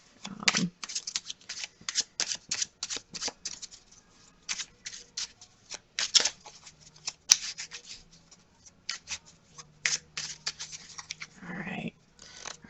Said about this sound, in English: Go ahead and do a split shuffle here, and we're going to give it a cut and go.